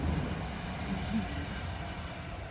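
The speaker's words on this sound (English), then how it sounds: "Oh, that was a very short train." A short train rolls past at a distance, a low steady rumble with faint rhythmic high squeals or clacks recurring every half second or so, fairly quiet and without talk.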